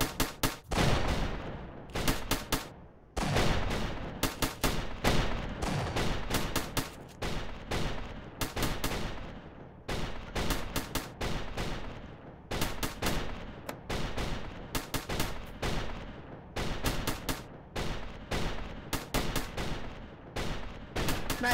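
A machine gun tower in the Roblox game Tower Battles fires rapid, loud bursts of gunfire again and again, with brief gaps between volleys throughout.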